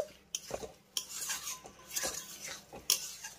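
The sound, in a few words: stirring soybean with masala in a pan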